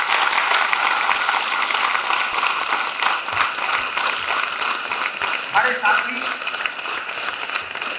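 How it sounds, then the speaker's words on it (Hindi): Audience applause at the ICUMSAT 2023 academic conference, sustained clapping from a large crowd that fills the room for several seconds, with a voice speaking briefly over it. "इसलिए वंस अगेन तालियां।"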